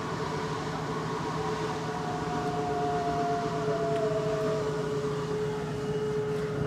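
Motor of a rack-and-pinion slide-out on a 2022 Jayco Eagle 321RSTS RV extending, a steady mechanical whine over a constant drone with a faint tone that gradually falls in pitch.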